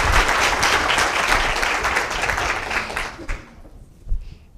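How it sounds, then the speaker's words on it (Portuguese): An audience at an educational lecture applauding the speaker, a dense burst of clapping from a crowd that holds steady for about three seconds and then fades out quickly. "Peço uma salva de palmas para ele."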